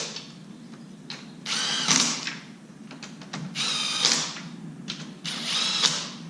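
Bolts being run down snug with a power tool on a 2014 Ford F550 V10 engine during assembly, three bursts of whirring ratcheting separated by short pauses, close up.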